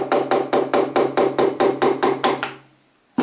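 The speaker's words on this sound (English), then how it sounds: "with a soft hammer." A machine plate being knocked off its dowel pins with a soft hammer: about ten evenly spaced, solid thuds in quick steady rhythm, close and loud, then the sound stops.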